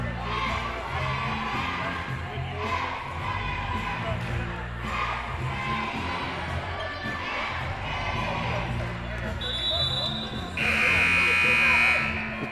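In a school gymnasium during the fourth quarter of a basketball game, crowd noise, squeaks and a commentator's voice fill the air until a loud, sustained electronic buzzer blares near the end.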